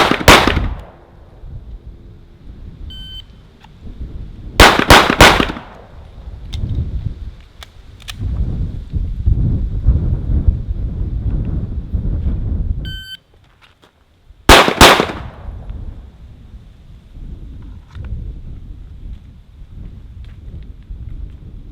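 Pistol shots ring out at an outdoor shooting range: three sharp, loud reports spaced several seconds apart, each followed by a brief decaying echo against a background of low rumbling noise.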